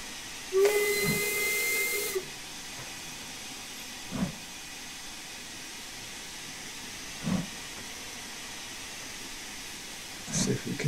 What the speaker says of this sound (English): That's just releasing the excess steam.